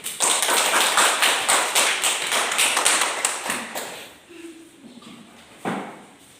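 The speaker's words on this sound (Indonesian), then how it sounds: "kita tepuk tangan dulu" Classroom of young pupils applauding together, a loud burst of rapid clapping that fades after a few seconds into a teacher talking, with one more sharp tap near the end.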